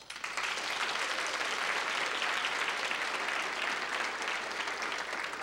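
An audience at a student success summit gives a sustained round of applause, a dense, steady wash of clapping that holds at an even level throughout without voices.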